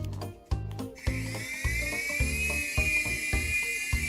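A small AirFun AF610 3-channel RC helicopter's rotor and motor spin up, holding a steady high-pitched whine close by over a rhythmic, pulsing backdrop.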